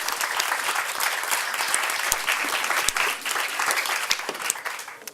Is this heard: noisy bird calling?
no